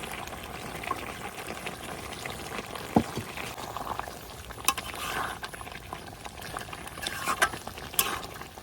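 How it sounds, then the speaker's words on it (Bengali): Amaranth stalks being sautéed with half-cooked chicken in a pan, a soft, continuous sizzle with gentle stirring and occasional louder clinks of the utensil, fairly quiet throughout. "এখন হলো বাকিটার সাথে ডাটাগুলোও কষানো হয়ে যাবে"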